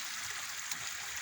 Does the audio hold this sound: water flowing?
yes